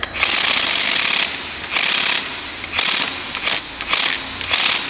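Close, loud ratchet wrench clicking in five bursts of rapid pawl ratchets, pausing between strokes, as it works on car spark plugs, with no talk.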